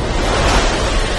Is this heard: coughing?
no